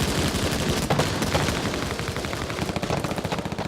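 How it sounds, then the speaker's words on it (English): Machine gun fire crackles in rapid bursts during a beach assault in the Battle of Normandy, a loud, dense, continuous rattle of overlapping shots with a rumbling low end. "the men of the Queen's Own face a wall of deadly enemy fire"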